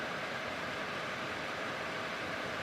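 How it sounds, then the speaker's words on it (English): A POMORON 4-in-1 home air purifier and ionizer runs on fan setting 3, giving a steady, fairly loud broadband whoosh of moving air that holds even and unbroken throughout, with no voices. "Number 3, it's a little loud."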